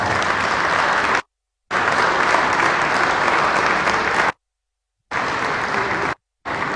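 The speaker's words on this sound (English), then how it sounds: "please give them an NBA round of applause." Audience applause for presidential debate candidates, dense steady clapping from a crowd that cuts out abruptly several times, leaving silent gaps between bursts.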